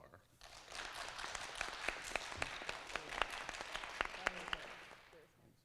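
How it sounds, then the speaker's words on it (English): A small crowd claps for several seconds, an even patter of applause that builds and then fades, heard from a short distance. "let's have a round of applause for those debaters"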